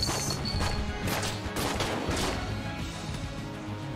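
Rapid gunfire in a video game, a dense run of sharp close shots and impacts over steady background noise.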